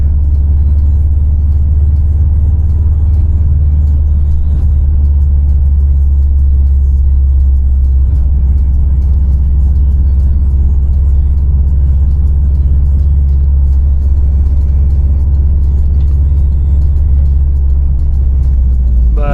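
A 2018 Subaru STI with a new fuel pump rumbles loud and low from inside the car during a full acceleration run, a sustained droning engine and road roar with no voices.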